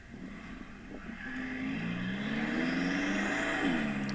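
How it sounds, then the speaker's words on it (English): Car engine heard from inside while driving, captured on an Honor View 20 phone: a steady whirring drone with rising and falling tones as it accelerates and shifts, building slightly louder through the clip, with no talking. "Little engine noises, you know."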